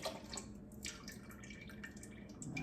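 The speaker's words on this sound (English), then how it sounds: "I'm gonna take my milk and pour it into the mixer." Milk pours into a mixer bowl while yeast rolls are being made, a soft continuous liquid trickle and splash in a kitchen, faint and steady throughout without any talking.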